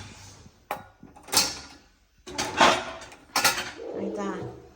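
Metal spoons and cutlery clink and clatter in sharp bursts at close range as they are loaded for washing, with a few quiet gaps between.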